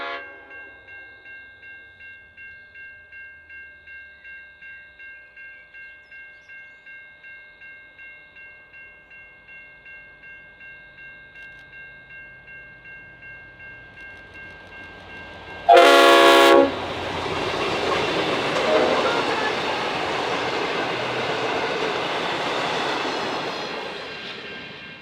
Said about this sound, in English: The engines on this is V-Line's A66 and a brand newly repainted Y-Class